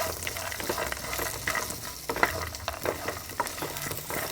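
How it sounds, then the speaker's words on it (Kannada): Green chillies and curry leaves frying in a pan over a low flame for a thick poha mixture: a steady close sizzle dotted with sharp crackles and pops, with no talking. "ಇದನ್ನೆಲ್ಲ ಒಮ್ಮೆ ನಾವು ಚೆನ್ನಾಗಿ ಫ್ರೈ ಮಾಡಿಕೊಂಡು ಒಲೆ ಆಫ್ ಮಾಡುವ."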